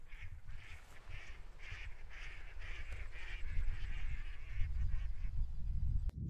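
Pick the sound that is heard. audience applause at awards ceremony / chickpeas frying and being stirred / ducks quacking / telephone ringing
ducks quacking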